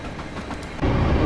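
Train passing in Train Simulator 2018 on the line into London, a soft rolling rumble that swells abruptly into a louder, close rushing roar of wheels and carriages.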